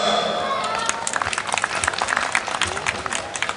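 Audience applause at the opening ceremony of a village rice pilaf festival in Yüreğil, a steady patter of many hands clapping outdoors, moderately loud throughout with scattered voices mixed in.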